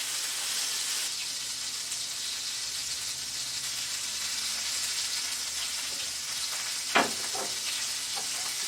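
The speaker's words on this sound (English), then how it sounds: "You hear that sear? That means the pan is hot enough." Steak bites sear in a hot pan with a steady, loud sizzle and crackle that fills the whole stretch, close up, with a brief clatter of handling near the end.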